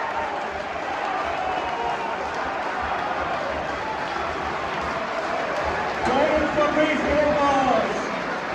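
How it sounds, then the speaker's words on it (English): A football crowd at Raith's stadium applauds as the referee and players show Racism the Red Card: a dense, steady wash of distant clapping that swells near the end, with a voice coming through over it. "Join in the applause as the referee and the players show Racism the Red Cards"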